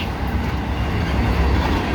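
Open steel box freight cars rumbling past close by, a loud continuous roar with faint rhythmic clatter of wheels on rails.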